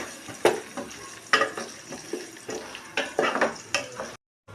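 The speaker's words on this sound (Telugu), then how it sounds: "ఇప్పుడు మనమైతే ఉల్లిగడ్డలు మిరపకాయలు అయితే వేసుకున్నాం కదా, వెంటనే కలుపుకొని" Onions and green chilies fried in oil with cumin and mustard seeds are stirred in a pan, with a soft sizzle under repeated scraping strokes of a spoon against the pan, close and clear.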